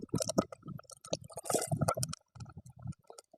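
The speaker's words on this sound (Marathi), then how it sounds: "उकडवून घेतलेलं जे पाणी आहे ते पाणी ओततोय." Boiled water is poured into a cooking pot of village-style amaranth stem curry, coming as close, irregular splashy bursts and gurgles with short pauses between them.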